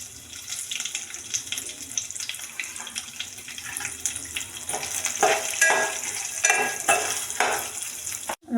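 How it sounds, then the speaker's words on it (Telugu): Peanuts, roasted gram and cashews fry in hot oil, a continuous close sizzle with stirring scrapes that grows louder and busier toward the end, with no talk. "నూనె హీట్ అయ్యాక పల్లీలు, పుట్నాల పప్పు, జీడిపప్పు వేయించుకుందాం."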